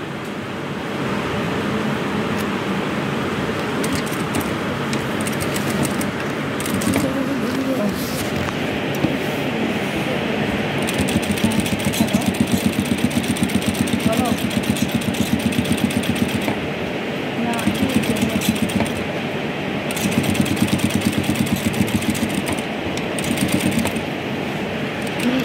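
A sewing machine runs while stitching along a marked line, its steady mechanical whir continuing with a faint disturbance noise from somewhere in the machine, while a voice talks over it.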